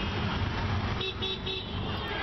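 Busy street traffic in India rumbles throughout, with a couple of short car horn toots sounding midway through the brief, noisy stretch.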